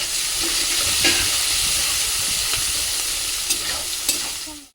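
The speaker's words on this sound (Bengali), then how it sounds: "পেঁয়াজটা ভাজা হোক" Onions fry in hot oil with a constant loud sizzle, broken by a few soft clinks of stirring.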